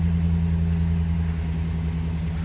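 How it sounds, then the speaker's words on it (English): 2020 RAM Big Horn 1500 pickup truck idling with a deep, steady low exhaust rumble, close and constant without revving throughout. "Nice sounding exhaust from Ram."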